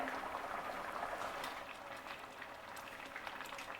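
Curry gravy for soup curry, soured with kudampuli, simmering and reducing in a pot, a faint steady bubbling and soft popping with no talk over it.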